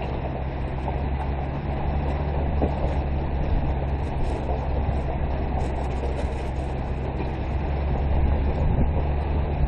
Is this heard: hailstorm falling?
no